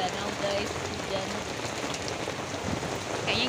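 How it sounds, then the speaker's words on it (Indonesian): Rain falls steadily outdoors at Bedugul in Bali, a continuous dense hiss of drops on surfaces, fairly loud and even, with a faint voice at times underneath. "Ini lagi hujan, guys."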